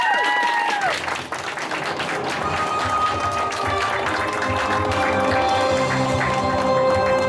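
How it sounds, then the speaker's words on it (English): An audience at an anime convention's Who Wants to be a Millionaire game show bursts into sustained applause, dense clapping that builds quickly and continues steadily over a bright musical tone. "Give him a round of applause one more time"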